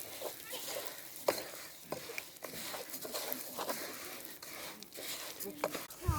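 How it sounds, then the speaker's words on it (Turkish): Soft sizzling and stirring of bulgur frying in oil in a pan, with light scraping clicks and a crackling patter of grains. "Yağda biraz bulgurumuzu kavuralım."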